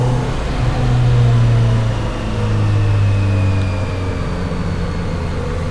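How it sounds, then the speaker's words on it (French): A 2026 Kawasaki Z900RS motorcycle exhaust gives a steady, fairly loud low rumble that swells briefly as it revs, then settles back to an even drone, with no talk over it. "Le bruit, l'échappement, on a l'impression d'avoir une GTI."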